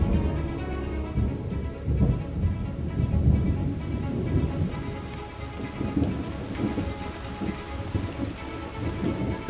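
Heavy rain pours down during a thunderstorm in the Amazon rainforest, a dense, continuous hiss of rain with deep rolling thunder rumbling underneath throughout, fairly loud and enveloping, with no voices.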